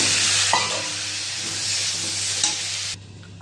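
Boiled taro and potato stirred into a hot pan with oil, turmeric and coriander powder, giving a loud steady sizzle with a few scraping stirs that cuts off near the end, close by, with no talking.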